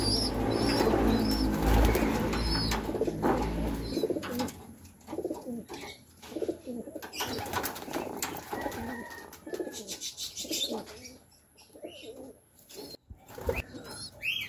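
Racing pigeon arriving at its loft after a race from Calauag, with soft coos, flapping wings and nearby chirps, loud at first, then quieter scuffling and clattering.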